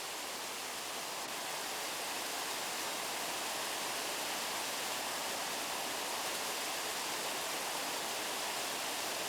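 Water pours steadily down a waterfall at Sangwonam on Myohyang Mountain, a continuous even hiss and rush with no pauses, heard alone and moderately distant.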